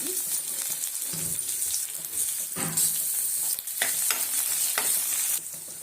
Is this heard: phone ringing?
no